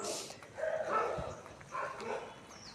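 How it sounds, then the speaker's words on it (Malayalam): Dogs bark and yip in a few short bursts, somewhat distant and fairly faint, against a quiet outdoor background. "പട്ടികൾ"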